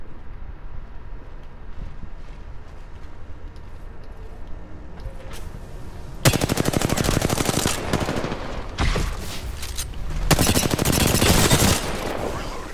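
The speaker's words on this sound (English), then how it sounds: "I'm getting shot at" Bursts of automatic gunfire from an Apex Legends match, loud and close, with rapid rattling volleys starting midway and repeating in several sustained stretches after a quieter opening.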